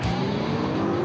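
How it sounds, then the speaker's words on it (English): A Ford FPV Falcon GT, a powerful Australian production car with a V8, roars loudly at close range in one brief, sustained burst of engine noise. "This, my friends, is the new Falcon GT."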